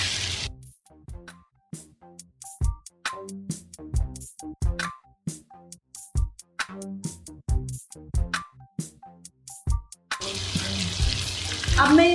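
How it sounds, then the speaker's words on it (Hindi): Frying lentils for Pakistani dal gosht, with irregular sharp crackles and splutters from the pan, then a louder rush of pouring liquid near the end. "गलाना शुरू कर देंगे पानी डाल के"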